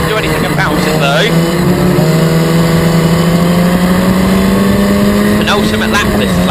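Historic Formula Ford race cars screaming down the Bentley straight at Snetterton, loud sustained engine notes rising in pitch with a car passing close at the start and end, under a commentator's talk.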